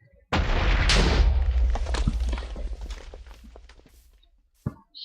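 A gunpowder-crafted mob gun item from a Minecraft mod sets off a loud explosion: a sudden heavy boom with a long rumbling, crackling decay that fades over several seconds, followed by a faint thud.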